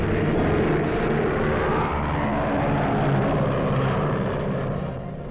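A US Navy test plane in flight at Anacostia, carrying a reconnaissance television camera in its nose, gives a steady, loud propeller-engine drone that holds even throughout with no talk.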